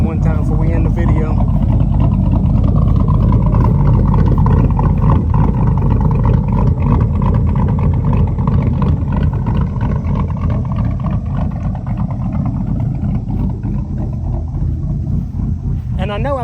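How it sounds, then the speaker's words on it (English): A Chevrolet Silverado truck engine with a performance cam idles loudly and close, its deep lumpy rumble running steadily throughout with no talking. "Let y'all hear that cam one time before we end the video."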